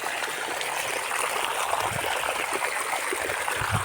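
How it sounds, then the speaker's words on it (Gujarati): Irrigation water flows steadily into vegetable field beds of onion, carrot, peas and garlic, a continuous even rush and trickle with no pauses. "બકાલામાં પાણી આવે ફૂલ."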